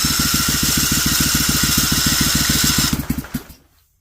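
A Vanguard 16HP engine with rust in its cylinders runs at a steady, rapid thumping beat after the choke is pulled, loud and close, then sputters and dies away into silence near the end.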